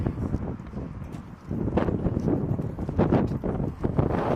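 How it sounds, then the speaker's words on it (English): Gusty wind buffets the microphone with loud, uneven rumbling and rushing bursts, rising and falling in waves. "It's so windy out here."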